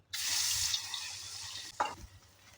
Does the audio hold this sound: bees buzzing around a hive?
no